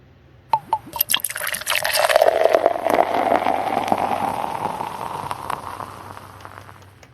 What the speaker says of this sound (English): we are ready to put the oil in